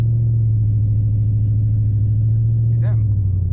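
Low, steady engine rumble from a 600-horsepower Dodge Scat Pack on drag tires, idling close in a snowstorm, with a brief rising rev near the end and a voice speaking over it.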